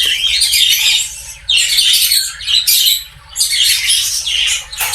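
A captive female dove (ghughu), held in the hand just before release, gives loud, close bursts of harsh squawking or fluttering in four or five uneven spells separated by short gaps, with no speech.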